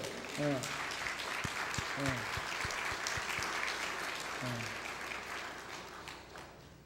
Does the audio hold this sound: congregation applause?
yes